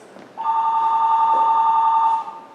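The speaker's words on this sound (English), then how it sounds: "Oh, it's the phone again." A telephone rings once in a stage play, one long electronic warble lasting about two seconds, clear and fairly close, with no talk over it.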